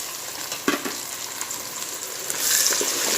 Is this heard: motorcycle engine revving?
no